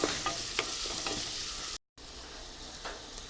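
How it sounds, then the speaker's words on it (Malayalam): Chopped onion and whole garam masala sauté in sunflower oil inside a cooker, giving a steady close sizzle with scraping stirs and a brief silent gap midway. "ഒരു മീഡിയം സവാള ചോപ്പ് ചെയ്തത് കുറച്ച് വോൾ ഗരം മസാല ഒന്നുണ്ട് സോട്ട് ചെയ്തെടുക്കുക"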